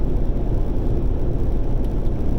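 A car speeding up to merge onto a highway, its engine and road noise a steady, loud, broadband roar throughout with no talking.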